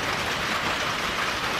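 Rain falls outside a shed being converted into an art studio, a loud, continuous broadband wash with a rumbling low end, no speech.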